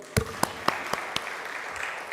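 An audience at the Kenya Industrialization Conference 2023 gives sparse, scattered applause. A handful of distinct claps are spaced about a quarter second apart and fade into a faint murmur.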